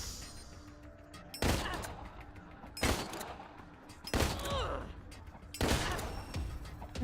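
Gunfire in the video game Wasteland 3, four separate loud booming shots spaced about one and a half seconds apart, each with a sharp crack and a short rumbling tail, over a low game ambience.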